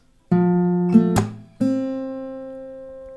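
A few plucked acoustic guitar notes ring out, with a single sharp hand clap replacing the G-string note before the last note sustains and fades.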